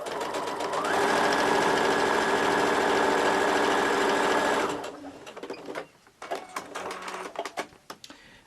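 Sewing machine stitching fabric strips for Christmas ornaments, a loud rapid mechanical whirring run lasting several seconds, then stopping, followed by quieter handling clicks and fabric rustles.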